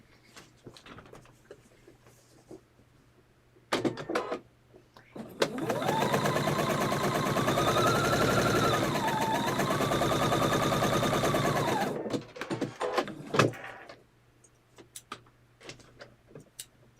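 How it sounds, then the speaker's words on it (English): A sewing machine stitches a quilt block, running steadily and loudly for about six seconds, with scattered clicks and handling sounds before and after. "I'll just take that to the sewing machine and stitch that down."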